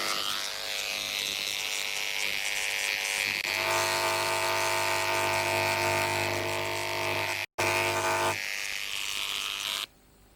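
An electric engraving tool buzzes steadily against metal, a continuous close high-pitched whine that shifts in tone partway through, cuts out briefly, then resumes before stopping near the end.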